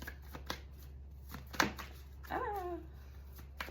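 Tarot cards drawn and shuffled from a deck, quiet papery flicks and snaps at irregular intervals, with a brief murmured vocal sound partway through.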